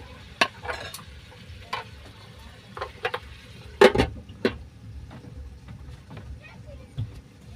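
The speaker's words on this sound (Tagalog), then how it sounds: "Lulutuin ko muna ito sa gisa" Chicken sautéing in a pan for tinolang manok, with a low, steady sizzle broken by scattered clinks and scrapes of stirring. A person talks over the cooking.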